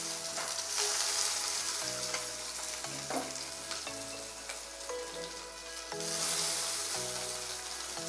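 Finely chopped onions frying in a pan after potatoes for chicken dum biryani: a loud, continuous crackling sizzle close by, broken by the scrape and stir of a spoon, with no talk.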